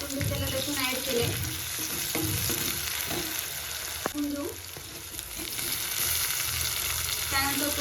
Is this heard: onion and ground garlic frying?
yes